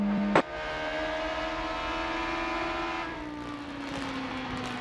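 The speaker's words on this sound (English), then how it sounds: "You can hear him going through the gears, trying to get the right selection to have the most torque" IndyCar engine at the 2000 Delphi Indy 200 at Walt Disney World, heard during a race restart: a steady, loud, harmonic drone that slowly sags in pitch after a sharp click, with no talk over it.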